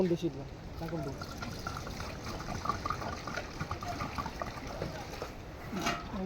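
Water is poured into a cooking pot set on a stove, making a soft, continuous trickling and splashing under steady nearby talk.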